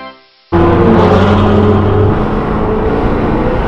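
A performance car engine, at a Turkish car meet with a Golf R, bursts into a loud, close rev after a brief near-silence, holding a strained high-rpm roar before easing slightly.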